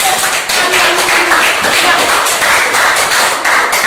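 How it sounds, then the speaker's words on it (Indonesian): Students applauding in a classroom after a correct answer, a loud, sustained clatter of many hands clapping close by, with some desk thumps mixed in. "Berikan aplaus."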